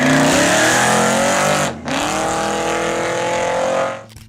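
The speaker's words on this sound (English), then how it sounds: "GMC took a compact pickup truck, strapped a turbocharger to a V6, added all-wheel drive, and created something that embarrassed sports cars at stoplights across America." A turbocharged V6 in a 1991 GMC Syclone compact all-wheel-drive pickup revs loudly and close, its pitch climbing steadily, dipping briefly with a gear change, then rising again before cutting off.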